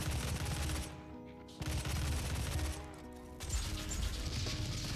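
Rockets fired at an enemy in DOOM, heavy blasts and explosive bursts in quick succession, broken by two short lulls, loud and close with layered game effects.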